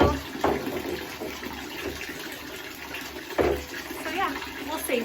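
Tap water running steadily into a bowl where vintage thrifted clothing is being soaked, a continuous close splashing rush with a few bumps and knocks over it.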